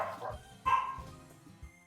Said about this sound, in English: Hold on, I just gotta check this dog situation going on right now.